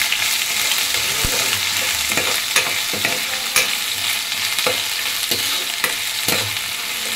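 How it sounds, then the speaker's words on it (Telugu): Onions with ginger garlic paste fry in a pan, a steady bright sizzle with intermittent scraping stirs and clinks of a spoon, close and continuous without speech. "వీటిని బాగా ఎర్రగా వేయించుకోవాలండి"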